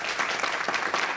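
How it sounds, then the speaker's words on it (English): An audience at a panel discussion on robots and jobs applauds the panelists, a brief burst of many hands clapping, close and fairly loud, with no speech over it. "let's give them another round of applause"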